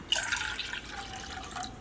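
Water pours into a measuring cup in a kitchen while fries and burgers are being made. A soft, brief trickle and splash, close and faint, with no talking.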